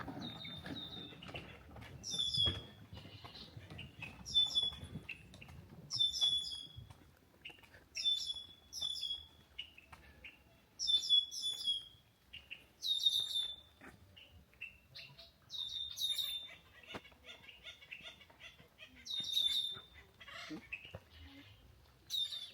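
Acorn woodpeckers call from trees in an oak woodland in Oak Glen. Their short, repeated chattering phrases sound at a fair distance, with quiet outdoor rustling between the calls.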